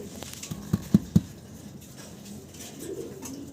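Fancy section shield double crested pigeons coo nearby, with three soft low coos close together early on over a quiet background rustle.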